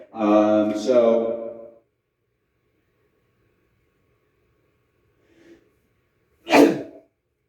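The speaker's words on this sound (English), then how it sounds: "I had to sneeze" A single sharp, explosive sneeze bursts out close up after a pause of silence that follows a stretch of singing or drawn-out vocalizing.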